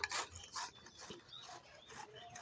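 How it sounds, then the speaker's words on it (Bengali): Mangoes are rubbed against a grater in short, rasping strokes, close and moderately loud, in a quick uneven rhythm of about six scrapes. "দেখো বন্ধুরা কি সুন্দর হচ্ছে আমগুলো ঘষা"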